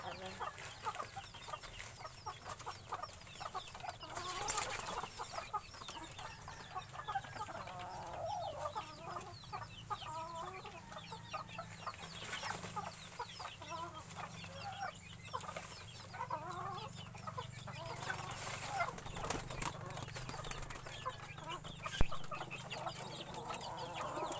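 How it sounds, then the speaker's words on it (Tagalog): Chicken clucking repeatedly in a rural yard, with rustling and scattered wing flaps, fairly faint and steady throughout, with occasional crowing in the background. "Tatalon at lalabas ang manok."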